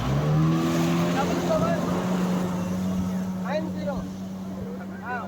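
Speedboat ride off Paradise Beach in Goa, a steady droning outboard engine hum running throughout with water splashing and wind, and people talking over the motor.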